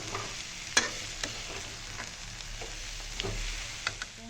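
Carrot pickle being stirred in a hot pan gives a continuous close sizzle punctuated by soft, evenly spaced scraping strokes of the spoon.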